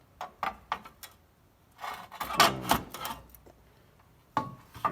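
A file rasps across the steel of a 1950 Plymouth rear quarter panel in a few short, scraping strokes with pauses between, close and moderately loud.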